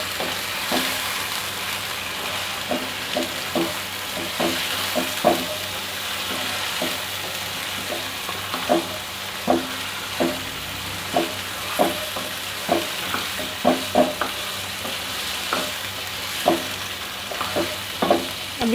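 Chicken sizzles steadily in a hot pan for Sindhi chicken biryani, with a constant frying hiss and frequent sharp clinks and scrapes of a spoon stirring the pieces, close and fairly loud, no talking.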